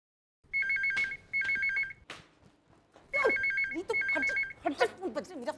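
A telephone rings in repeated electronic trilling bursts, close and clear, with people talking and moving between and after the rings.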